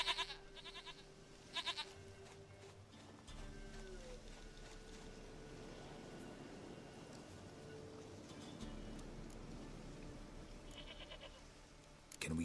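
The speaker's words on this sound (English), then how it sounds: "Goat of mine, dearest, sweetest goat." A goat bleats in The Witcher 3 video game, giving several short nasal calls near the start and again near the end over a quiet ambient game soundtrack with low sustained tones.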